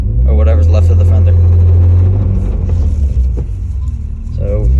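A 1993 BMW E36 325i on a test drive, its engine and road rumble loud and steady from inside the car, while people talk over it.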